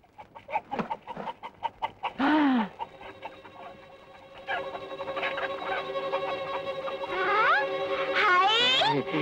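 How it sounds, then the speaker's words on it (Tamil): A chicken hidden inside a carried bag clucks in a quick series of soft pulses, then breaks into several louder, drawn-out squawks, close by and with nobody speaking. "என்ன சத்தம்? அதுதான் கோழி."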